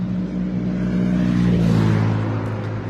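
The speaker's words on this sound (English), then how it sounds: "I had to go live while this loud car was coming." A loud car rumbles past outdoors, a low engine drone that swells toward the middle and fades slightly, heard alone without speech.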